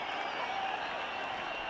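A cricket stadium crowd applauds a well-struck shot during an India versus England one-day international, a dense sustained wash of clapping and crowd noise, steady and fairly loud throughout.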